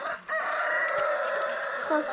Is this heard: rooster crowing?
yes